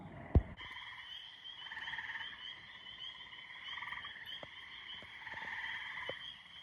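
Frogs croak steadily in a chorus at a rainy spot, several calling at once in pulsing overlapping trills, with one sharp thump near the start.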